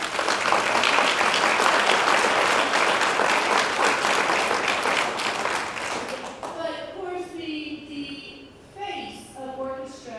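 Strong applause greets an orchestra at a spring concert, dense clapping that gradually thins and fades out, leaving a voice speaking alone at the end.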